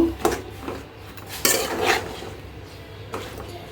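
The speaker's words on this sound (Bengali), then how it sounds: "তো এখন এটা ভালো করে কষিয়ে নিব" Lotti with pabda fish, dried fish and eggplant is stirred in a pot, with several scraping spatula strokes and metallic clinks over a faint low sizzle.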